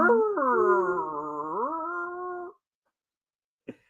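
A human voice imitates a police car siren with one sustained wailing tone that dips and rises for a couple of seconds, then stops, followed by a single short knock.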